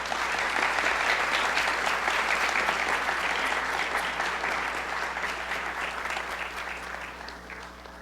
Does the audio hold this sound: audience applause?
yes